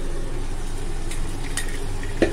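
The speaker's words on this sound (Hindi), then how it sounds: "अब मैं इसमें अपनी भीगी हुई दाल डालूंगी।" Soaked gahat dal is tipped into cooked-down tomatoes in a pan, a soft steady sizzle and stirring with a brief clink of utensil near the end.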